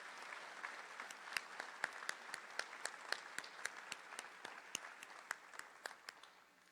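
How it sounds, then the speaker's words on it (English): Applause at a high school awards ceremony honoring a staff member: steady, fairly faint clapping from a modest audience, with distinct individual claps standing out over a continuous wash for several seconds. "Let's give her a big round of applause."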